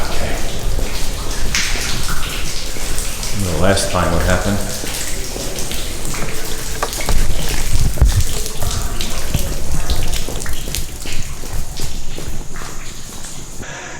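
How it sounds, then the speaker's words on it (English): Water drips and splashes continuously nearby inside a tunnel, with scattered footsteps and a brief spoken remark partway through. "Just dripping down."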